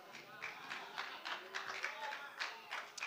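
A few audience members clapping at a sermon, sparse light claps scattered unevenly under a preacher's speech.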